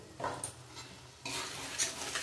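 Ground chilli, turmeric, cumin and coriander are stirred and fried in a pan, quiet scraping followed by a louder burst of sizzling and spoon strokes.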